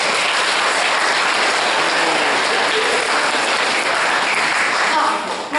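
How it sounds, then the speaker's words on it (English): Dense, loud applause from a school assembly audience for the student council during class elections, a continuous roar of clapping that fades slightly at the very end. "I'd like to give the current student council a round of applause."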